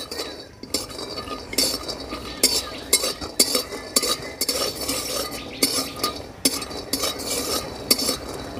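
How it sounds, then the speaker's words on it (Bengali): Peanuts are lightly dry-roasted in a wok over a stove, stirred with repeated rhythmic scrapes and metallic clinks, close and fairly loud, with a faint sizzle beneath. "বাদামগুলো হালকা ভেজে নেব।"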